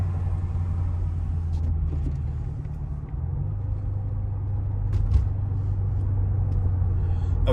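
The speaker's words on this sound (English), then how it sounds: "The cabin is really a quiet, nice low hum, like nothing irritating." A 2009 Mercedes SL550 R230 with a coilover conversion drives along, its cabin holding a steady, quiet low hum and rumble with no sharp noises.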